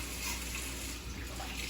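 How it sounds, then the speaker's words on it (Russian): Rice being rinsed under running tap water while cooking plov, a steady close gush of water that runs without pause through the whole moment. "рис нужно хорошо помыть"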